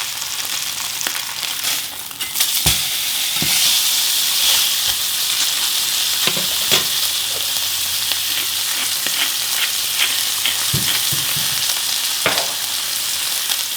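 Meat fries in fat in a pan, a steady loud sizzle and hiss broken by occasional scrapes and stirring knocks throughout, with no talking.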